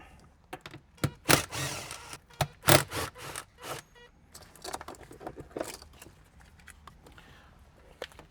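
The shifter assembly is pulled from a BMW E46 M3 during an SMG-to-manual conversion, producing close bursts of rattling, clunking and scraping metal and plastic, then quieter scattered clicks.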